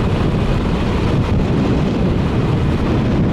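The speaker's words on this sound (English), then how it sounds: "It's windy as hell out here, so y'all probably, you gotta listen closely." Strong wind blowing outdoors and buffeting the microphone, a loud, continuous low roar and rumble that goes on unbroken, with no other sound clearly heard through it.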